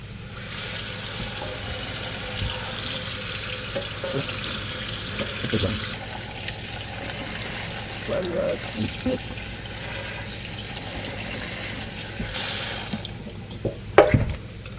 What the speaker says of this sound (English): we can go over and drain the chickpeas